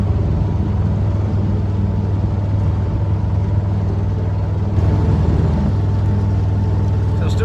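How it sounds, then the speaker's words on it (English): A constant low engine rumble from a boat passing on a canal, steady and fairly close throughout. "Oh, there's a boat coming."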